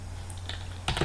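A short burst of computer keyboard typing while Python code is written, a few quick close clicks arriving near the end after near silence over a low steady hum.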